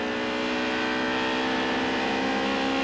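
A 1990 British Touring Car Championship touring car engine runs hard and rough as it exits Copse corner, a steady dense mechanical roar held at high revs throughout without pause.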